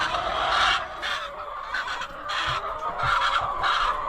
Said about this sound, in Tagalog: pakita ko muna sa inyo yung mga manok ko